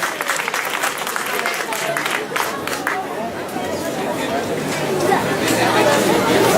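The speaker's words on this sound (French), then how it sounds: "Bravo, on l'applaudit, on la soutient très fort." An audience at an association forum applauds after a demonstration, with dense, sustained clapping blended with crowd chatter that carries on throughout.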